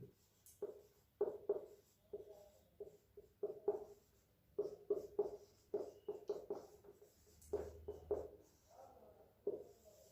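A pen or marker writing out a geometry theorem by hand, with quick scratchy strokes in irregular bursts and short pauses, close and fairly quiet, no talk.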